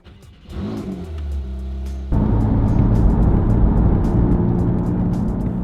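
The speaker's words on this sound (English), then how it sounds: "start it when I want, and blip that throttle when I want. It just sounds incredible." A Porsche 911 Carrera engine idles low, then blips its throttle into a loud, sustained rev that holds strong and steady without any talking.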